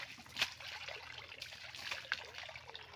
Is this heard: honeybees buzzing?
no